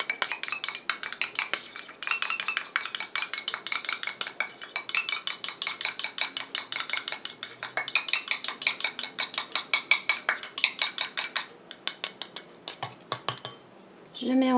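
A lash and brow booster is mixed in a small container, the utensil scraping and clinking against its sides in a fast, steady rhythm that runs for most of the stretch before stopping near the end.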